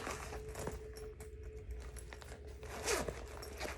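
A zipper on a bag is pulled in a few short, quiet zips, with soft handling noises and a faint steady hum in the background.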